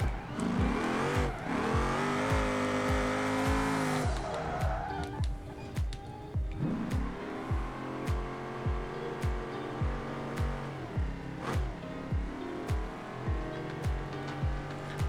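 A Gavril Barstow IV drift car with 510 horsepower and slick tires, driven in the BeamNG video game, revs hard in repeated bursts with rhythmic engine pulses and gear changes, loud and close throughout.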